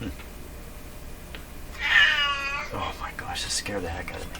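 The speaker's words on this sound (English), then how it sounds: "That's my cat" A pet cat lets out one drawn-out, wavering meow close to the microphone, followed by a couple of shorter fainter sounds, with a person speaking softly around it in a quiet room.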